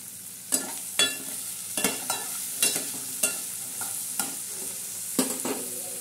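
A tadka for spinach and moong dal sizzles in hot oil, with rhythmic spoon strikes against the pan every half second or so over a steady crackle, close and moderately quiet.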